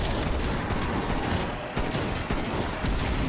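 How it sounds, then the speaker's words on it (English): Dense rapid gunfire from Call of Duty Cold War Zombies, near and loud, continuous bursts of shots against zombies with barely a pause. "Pretty sure I just shot a zombie back in the face and just hit spot."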